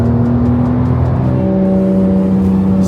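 A Porsche Cup race car driven on the road gives a loud, close engine drone with a steady hum that shifts pitch partway through, with no talk.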